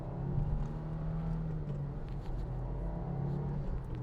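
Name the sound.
Subaru WRX accelerating hard in second gear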